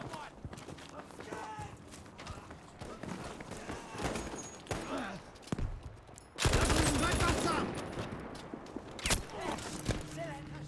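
Gunfire from a Battlefield 5 multiplayer match, including the BAR M1918A2 rifle, sounds in scattered bursts with a loud, dense volley midway through. A player's voice talks over it at times.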